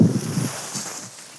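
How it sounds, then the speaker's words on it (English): Wind gusting over a meadow at a campsite in Sweden buffets the microphone as a low rumble that is strongest at the start and then eases off, with no talking. "Now it's a bit windy"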